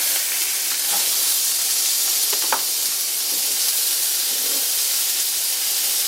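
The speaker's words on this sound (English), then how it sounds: "Flip my hamburgers over" Hamburger patties sizzling loudly in a cast iron pan, a continuous close hiss and spatter with a couple of scraping, clattering flips partway through and no talking.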